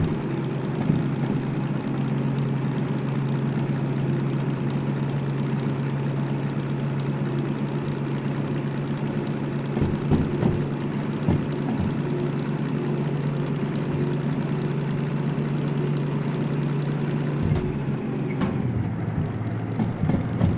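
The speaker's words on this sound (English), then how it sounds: "Sounds like a World War II aircraft." A diesel locomotive engine in the Derail Valley train game runs steadily with a deep, droning hum. It stays fairly loud and constant, with faint clicks and a brief dip near the end.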